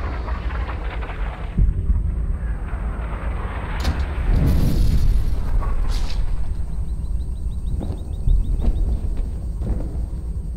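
Sniper rifle fire in the video game Sniper Ghost Warrior: several loud, booming reports with rumbling tails, spread across the clip over a dense battlefield ambience.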